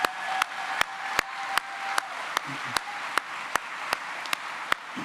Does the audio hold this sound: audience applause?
yes